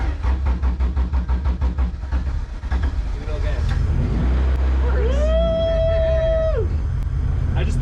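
A Honda Civic EG engine with a newly installed wiring harness and injectors cranks with rapid rhythmic pulses, then catches and starts, revving up to a steady rising whine before settling, heard close, with voices talking.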